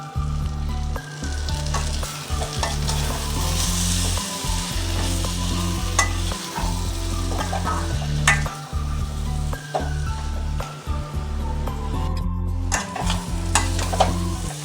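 Goat head chukka masala sautés in a hot pan with loud, continuous close sizzling and frying, broken by frequent scraping stirs of a spatula against the metal.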